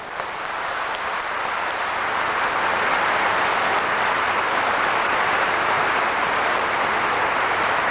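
Steady, sustained applause from a large audience at a tribute ceremony, a loud even wash of clapping that swells slightly and holds throughout with no voices over it.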